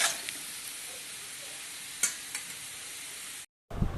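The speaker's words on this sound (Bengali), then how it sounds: "আলুগুলো একটু লাল লাল করে ভেজে নেবো" Potatoes fry in a pan with a continuous close hiss and sizzle, broken by a couple of sharp stirring clinks, then a brief drop to silence before a louder burst of sizzle returns.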